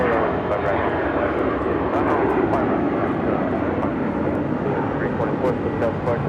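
Aircraft engine roar at LAX airport, a loud steady broadband rumble and whine that fills the whole stretch as a jet runs on or near the runway, close and continuous.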